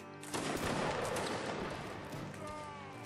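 A line of soldiers fires a loud, ragged musket volley in a Napoleonic-era battle video game, one dense roaring crack that rolls and decays for a few seconds while players' voices talk over the tail.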